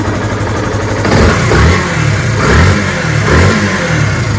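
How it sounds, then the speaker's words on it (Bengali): A used Yamaha FZS V2 motorcycle, Armada blue with about 3,100 km, is revved up several times from idle, loud close surges rising and falling in a rhythmic pattern. "ইঞ্জিন সাউন্ডটা যদি আপনারা শোনেন"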